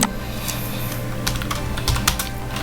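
Rapid typing on a computer keyboard as a ping command is entered in Kali Linux, with close, crisp clicks and a few louder key strikes in an irregular rhythm, no voices.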